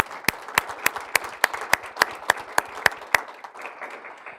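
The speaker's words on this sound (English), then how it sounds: "Let's give that a round of applause." Scattered applause at a lecture, a sparse audience clapping with distinct sharp claps in a loose, evenly spaced rhythm over a soft patter, fading out near the end.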